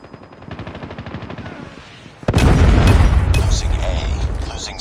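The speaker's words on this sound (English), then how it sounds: "Predator missile inbound." A Call of Duty Mobile match: rapid rhythmic gunfire clatters for a couple of seconds, then a predator missile strike hits with a loud boom and a sustained roaring rumble of explosions and shots.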